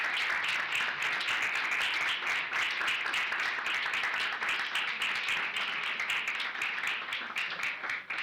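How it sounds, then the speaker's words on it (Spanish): An audience claps at the end of a talk, dense sustained applause that holds steady and fairly loud throughout before tapering slightly at the very end. "Un aplauso."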